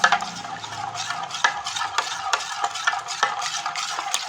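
Yogurt whisked in a bowl for kadhi pakora, a steady run of quick scraping strokes with sharp clinks of the whisk against the bowl, close and fairly loud, with no voices.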